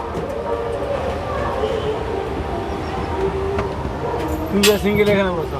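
An amusement park family train ride rumbles along steadily with people talking over it, and a brief horn-like tone rises near the end.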